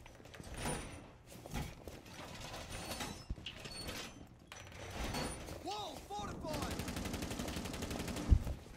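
Bursts of gunfire in a Rainbow Six Siege match, rapid broadband cracks clustered through the clip, with a denser stretch of sustained firing near the end, under excited player voices and game effects.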